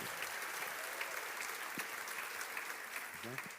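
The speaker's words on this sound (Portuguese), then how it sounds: "Uma salva de palmas para o Guto" Audience applause for artist Guto Lacaz at a Flip 2016 literary festival panel, a continuous, fairly soft wash of clapping throughout, with a brief voice surfacing near the end.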